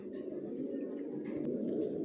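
Racer pigeons coo in a steady, overlapping low murmur, several birds calling at once from close range without pause.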